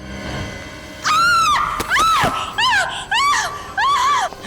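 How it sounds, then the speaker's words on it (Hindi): A woman screaming in a TV crime drama scene, with several loud, close, piercing shrieks in a row, each sustained and separated by short breaths. "क्यों चिल्ला रही हो?"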